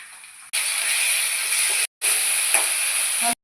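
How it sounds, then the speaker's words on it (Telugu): Onions fry with ginger garlic paste in a pan for chicken biryani, giving a loud, steady, close sizzle that cuts out briefly and then resumes, with faint stirring scrapes. "ఉల్లిపాయలు వేగినాక అల్లం వెల్లుల్లి పేస్ట్ వేసుకుంటున్నాను"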